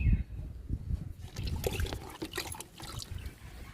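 Liquid fertilizer trickles and splashes onto a potted plant in uneven bursts, close and fairly quiet, with light rustling between pours.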